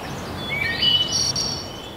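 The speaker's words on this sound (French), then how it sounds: "Le printemps qui est là, les petits oiseaux chantent." Small birds sing in spring beside the Grande-Prairie creek, a few high, thin chirps and short trills sitting over a steady, soft outdoor wash, moderately distant and without any talking.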